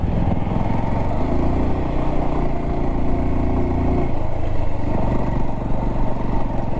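A Triumph Rocket 3 motorcycle on a ride through Bastar gives a loud, continuous engine drone with a steady low rumble throughout, heard close with no talk.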